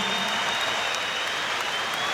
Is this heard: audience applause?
yes